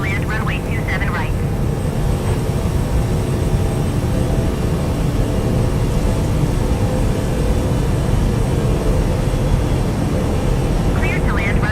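A large airliner in Microsoft Flight Simulator 2020 lands on runway 27 right, its engines a loud, continuous roar and rumble throughout, with brief radio chatter under the noise at the start and end.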